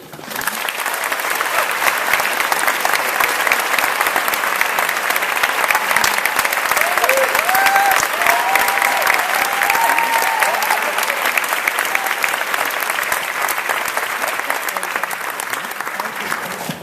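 Sustained audience applause welcoming film director Pavel Pawlikowski at TIFF, a dense, even clapping from a large crowd lasting the whole stretch, with faint voices mixed in.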